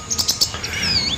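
A sunbird, known as kolibri ninja, gives a quick burst of high, bright chirps, several rapid notes followed by a thin sliding twitter, close and clear with no other sounds.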